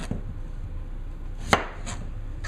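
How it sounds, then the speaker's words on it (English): A knife squares off an unpeeled potato on a cutting board, giving one sharp, close chop midway through a quiet room hum, followed by a fainter knock. "I square off the potato"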